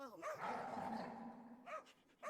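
Dogs bark in a film scene with several sharp, fairly close barks and a short growling yelp at the start and end, over a quiet background.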